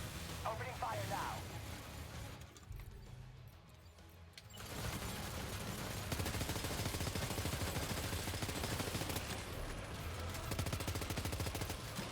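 Rapid gunfire in the video game Death Stranding 2: On the Beach, dense bursts and crashes running through most of the stretch with a brief lull, a voice talking over parts of it.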